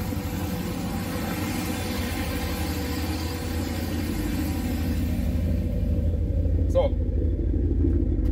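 A boosted 408 cubic inch LS V8 idles outdoors with a steady, loud, low rumble throughout, while someone talks briefly over it.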